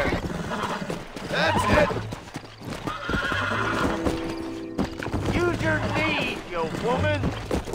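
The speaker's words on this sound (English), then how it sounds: "get off the horse here so it doesn't hop back on my own" A horse in the PC game Red Dead Redemption clip-clops along and gives a couple of whinnying neighs, close and fairly loud, with someone talking over it.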